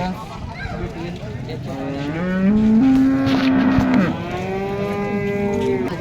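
Cattle low with long, drawn-out moos, one loud and close, over a busy background murmur of an open-air crowd.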